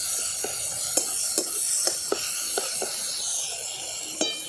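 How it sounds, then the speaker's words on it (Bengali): Ginger, onion, garlic and green chilli paste fries in a pan with a soft steady sizzle, punctuated by several light clicks of a spoon stirring against the pan, close up. "একটু ভাজা ভাজা করে নিচ্ছি যাতে এর কাঁচা গন্ধটা চলে যায়।"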